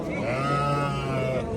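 Sheep at a livestock sale, young rams and ewes, give a single drawn-out bleat close by, steady and fairly loud throughout.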